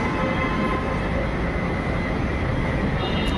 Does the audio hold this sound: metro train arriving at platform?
yes